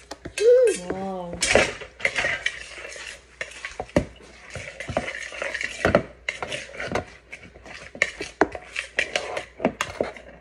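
A child stirs mango tapioca in a bowl, making repeated scraping, clinking and rubbing sounds close up, with voices of the child and an adult talking over the mixing.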